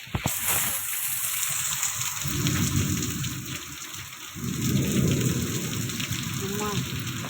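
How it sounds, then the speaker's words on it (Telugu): Heavy rain pours down steadily in a dense, hissing wash, with low rumbling surges of thunder rising and falling. A brief voice can be heard near the end. "వర్షం తక్కువ చేయమ్మా."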